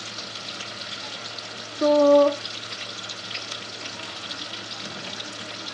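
Onions turning light brown fry in a pan for a tori (ridge gourd) dish, a soft steady sizzle throughout, briefly interrupted by a short tonal beep and a single spoken word.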